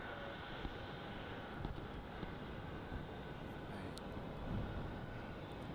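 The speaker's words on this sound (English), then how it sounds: "A350 incoming as well." An Airbus A350 airliner approaching to land at Melbourne Airport: a faint, distant, steady jet roar blended with wind noise on the microphone, with a slight swell near the end.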